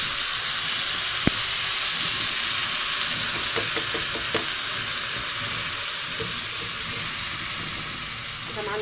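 Tomato juice poured onto golden fried onions for spaghetti sets off a steady close sizzle and hiss of frying, with faint stirring clicks and no voices.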